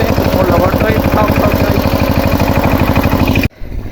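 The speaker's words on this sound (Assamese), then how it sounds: "একদম ট্ৰেক্টৰ ভাল মাৰি আছে" A tractor ploughs a paddy field, its engine chugging in a fast, even, loud pulse close by, then cutting off abruptly near the end.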